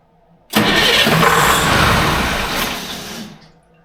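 A Detroit Diesel 453 engine on a dynamometer cranks and catches, roaring to a loud, steady, close-up run for about three seconds before easing off.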